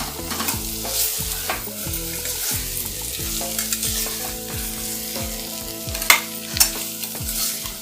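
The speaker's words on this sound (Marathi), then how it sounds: "मध्यम आकाराचा बटाटा कापून घेतलेला आहे तो आणि शेवग्याची शेंग हे दोन्ही यामध्ये टाकायचे आणि पुन्हा थोडं परतवून घ्यायचं" Potato and drumstick pieces stir-fried in a pan for khichdi, continuous sizzling under repeated scraping strokes of a spatula, close and steady with a couple of louder clatters near the end, no voices.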